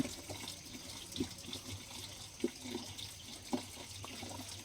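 Water runs steadily from a spring at a forested mountain spot where people fetch water, a soft continuous trickle with occasional louder splashes and drips, close and fairly quiet, with no talking.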